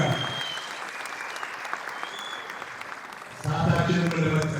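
Applause from an audience at a film premiere rises and falls as a dense patter of clapping, then swells louder near the end, with voices beneath it.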